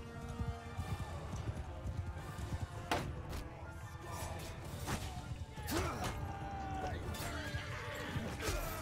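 Horses whinny repeatedly in Mount & Blade combat, loud and close, over a steady clip-clop of hooves with whooshes and impact crashes layered throughout.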